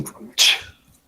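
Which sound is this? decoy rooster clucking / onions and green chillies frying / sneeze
sneeze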